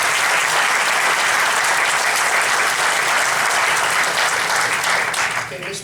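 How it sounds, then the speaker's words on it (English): An audience at a candidates' forum applauds steadily for several seconds, a dense, even wash of clapping that tapers off near the end, with a voice faintly present underneath. "Let's give them another round of applause."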